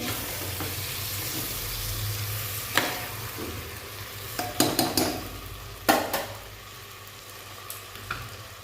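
Khichuri frying in a pan is stirred and turned, with a low sizzle underneath and a handful of sharp scrapes and clanks of the spoon against the metal, heard up close.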